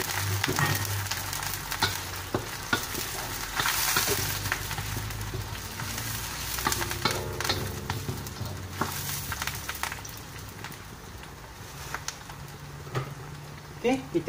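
Curry leaves hit hot oil in a pan and crackle and sizzle steadily, with a louder burst of spitting near the start that settles into a continuous frying hiss.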